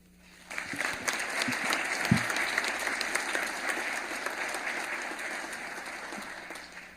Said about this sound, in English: this is the last time that you'll see a full chamber clapping for you